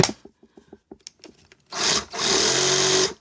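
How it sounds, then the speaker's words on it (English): A corded Sawzall reciprocating saw on an 18-volt cordless conversion starts with several short clicks and bursts, then runs in two loud, sustained whirring stretches close by. "Let's go to our Sawzall right here"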